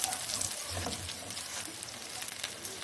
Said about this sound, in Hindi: तो इसका थोड़ा सा कलर चेंज होने तक हम पकाएंगे, जब तक कि हमारा प्याज अच्छे से सोते हो जाए।